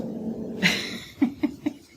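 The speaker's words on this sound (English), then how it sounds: "My ferocious guard dog." A dog gives a short huff and then three quick low growling grunts, close by and alone, in a home during kitchen decor painting.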